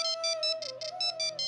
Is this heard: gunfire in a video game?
no